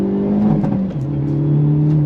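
Engine of a 2023 Hyundai Elantra N under throttle, a loud steady drone that climbs in pitch, briefly dips as if through a shift, then keeps pulling, recorded close from inside the car with no talking.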